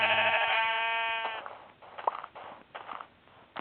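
A sheep in the Minecraft video game bleats once, a loud wavering cry lasting over a second, followed by softer scattered game sounds.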